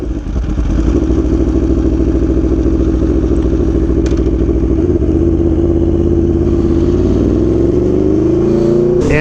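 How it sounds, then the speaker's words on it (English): An Aprilia Tuono V4 1100 Factory motorcycle engine fires up and settles into a loud, throaty idle through an aftermarket SC Project exhaust, with a brief blip of revs near the end. "the startup of the V4 through the SE Project exhaust"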